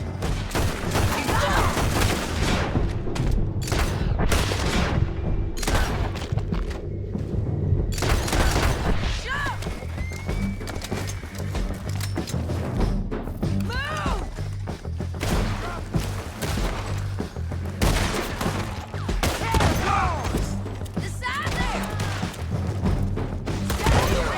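Dense bursts of gunfire and booming blasts from a Red Dead Redemption 2 shootout near a bridge and a boat, loud and nearly continuous with heavy impacts throughout.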